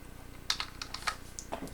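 Keys clicking on a computer keyboard while entering a job title into a search form, a short burst of irregular light taps, close and fairly quiet, with no talking.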